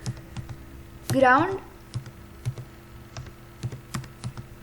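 Fingers tap on a computer keyboard in scattered, light clicks at an uneven pace, close by, with a brief voiced sound near the start.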